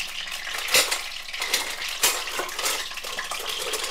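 Eggs frying in a pan on a home stove, a steady bright crackling sizzle with a few sharper scrapes or pops, continuous and close, with no voices.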